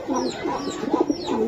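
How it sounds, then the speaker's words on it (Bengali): A Giribaz racing pigeon coos close by in a soft repeated rolling burble, several short low calls in quick succession. "100 কোয়ালিটির কবুতর।"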